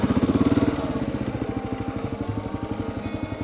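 A Kawasaki KLR650 Gen1 single-cylinder motorcycle thumps in a fast, even rhythm close by, its beat loosening slightly as the engine settles after a rev, with no talking over it.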